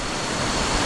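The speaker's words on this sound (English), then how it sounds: "you can just see all the different layers of this waterfall flying down" Rushing roar of a multi-tiered waterfall cascading down many levels in Luang Prabang, Laos, a dense steady broadband wash heard up close with no voices.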